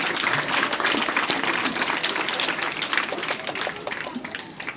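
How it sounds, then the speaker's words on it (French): An audience at a library inauguration during a book and theatre caravan event gives sustained, dense applause, many hands clapping together loudly and steadily before tapering slightly at the end. "Sous vos acclamations, s'il vous plaît."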